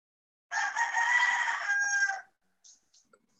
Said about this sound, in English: We got a rooster.